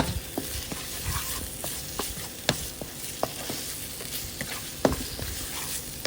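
Thai curry paste fries softly in a pan with a low, steady sizzle, punctuated by scattered clicks and taps from a utensil stirring it, heard alone and fairly quiet.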